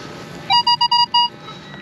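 A metal detector's short electronic tone beeps five times in quick succession over damp ground, clear and fairly close against quiet background hiss.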